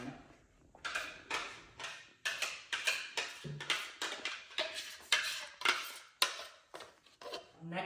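Cashew paste is scraped out of a blender jar into a kadhai, a close series of repeated rhythmic scraping and tapping strokes of a spoon against the jar, with no talk.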